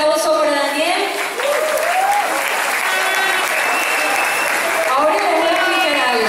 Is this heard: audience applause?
yes